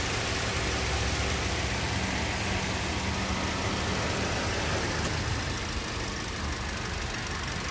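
A 2018 Daihatsu Terios engine idles with a dense, steady mechanical hum. It sounds close and continuous, with no pauses.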